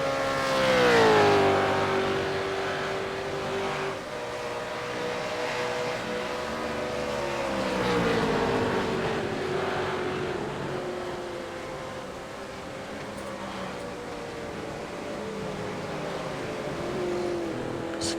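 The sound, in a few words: V8 race cars lapping a circuit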